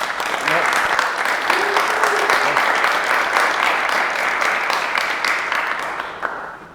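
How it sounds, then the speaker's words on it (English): A conference audience gives a speaker sustained applause before a fireside chat, a dense and loud wash of clapping that holds steady, then tapers off near the end with a few voices mixed in. "Please give him a warm applause."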